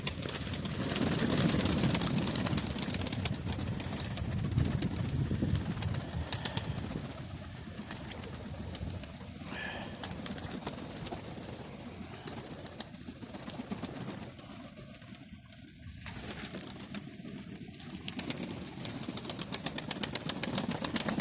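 Pigeons coo softly and flap their wings in an evening dovecote, with a steady, fairly loud background hum and rustle running throughout and a few louder flutters.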